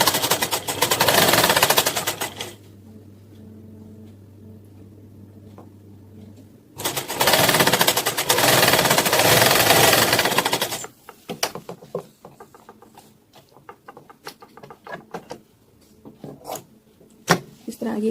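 A sewing machine stitches a strip onto a kurta in two bursts of rapid mechanical whirring, separated by a quieter gap of light clicks and fabric handling, with more scattered clicks at the end.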